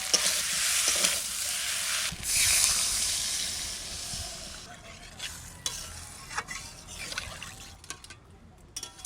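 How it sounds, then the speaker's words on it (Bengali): Water is poured into a hot pan of new potatoes, setting off a loud, bright hiss that fades into gentler bubbling and sizzling, followed by scattered clinks and scrapes of stirring close by. "এবার জল দিয়ে দেবো।"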